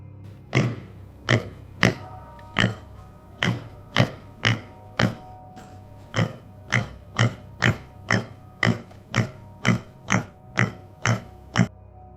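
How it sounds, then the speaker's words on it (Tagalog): A pig grunts softly in its pen at night in a rural setting, a long series of short, evenly spaced low grunts repeating steadily and close by, with nothing else audible. "maliban sa mahinang ungol ng baboy sa kulungan"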